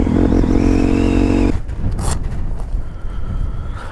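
A Suzuki DRZ400 dirt bike with an FCR39 carburetor accelerates in second gear, its engine revving loudly and climbing in pitch before cutting off abruptly, followed by gusty wind noise at the microphone.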